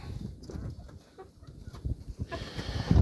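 Backyard chickens, including a rooster, cluck and mutter in a series of short, close calls while being fed greens, with a busier burst of clucking near the end.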